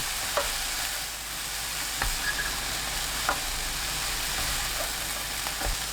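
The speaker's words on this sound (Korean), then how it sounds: "예열된 팬에 숙주나물, 청양고추 넣고 센 불로 2분 볶아주세요." Bean sprouts and cheongyang chili peppers stir-fry over high heat in a preheated pan, giving a steady broad sizzle punctuated by occasional sharp clicks of a utensil against the pan.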